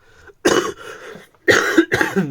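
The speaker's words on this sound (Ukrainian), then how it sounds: "Даруйте щось напав кашель" A person coughs in two bursts separated by a brief pause, loud and close, with rough, throaty bursts.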